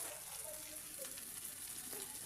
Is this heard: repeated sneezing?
no